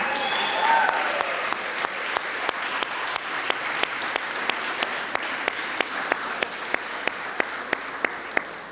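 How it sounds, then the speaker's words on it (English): An audience at a historic marker unveiling applauds after being asked to stand, with steady dense clapping throughout and a few louder, sharper claps standing out. Faint voices run under the applause. "please stand and give them a round of applause"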